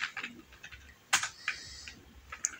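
Someone types JavaScript code on a computer keyboard in quick, close, irregular clicks, with a few sharper keystrokes standing out in a quiet room.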